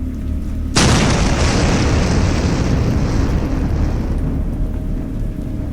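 A sudden loud boom at sea during a hurricane, breaking into a sustained roar of rain, wind and rumbling thunder that stays heavy and dense to the end.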